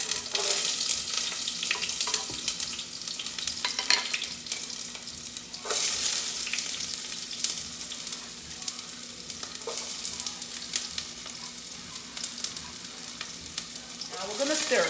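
Onions frying in a hot pot for tilapia and fried rice give a loud, steady sizzle with intermittent scraping stirs and a few utensil knocks, unaccompanied by voices.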